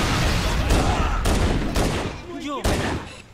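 Rapid automatic gunfire and blasts in the video game Halo CE, dense continuous bursts with a few sharp peaks, loud and close, with a voice talking over it.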